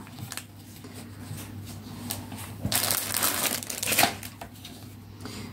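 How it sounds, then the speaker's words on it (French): A paper trimmer's blade scores a fold line across a card, giving a close, crisp crunching, scraping pass with a louder burst near the middle and a sharp snap at the end, alone without voices. "moi, je vais me servir du massicot"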